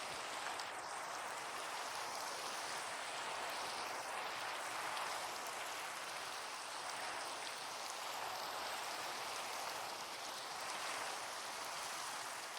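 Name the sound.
rain falling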